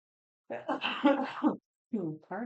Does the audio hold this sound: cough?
yes